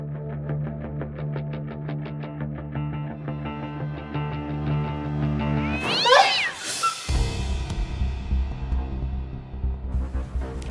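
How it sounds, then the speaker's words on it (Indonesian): A cat meows in a home kitchen at night in an Indonesian TV drama scene: a long, loud, drawn-out wavering meow, then a harsh distorted burst, followed by a low rumbling tail. "Ternyata cuma kucing"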